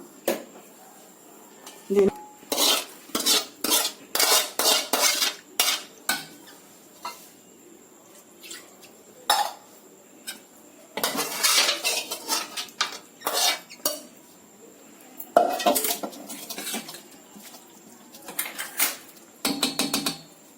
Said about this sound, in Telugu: బౌల్లోకి తీసుకున్నాను వడియాల పులుసు